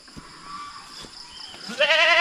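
A goat on a Filipino backyard farm gives a loud, wavering bleat near the end, preceded by quieter scuffling and faint farmyard background.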